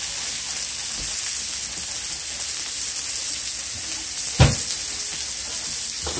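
Chopped onions sauté in a hot pan with a steady, bright sizzle that runs evenly throughout, broken by a couple of brief clicks and taps of a utensil; no talking.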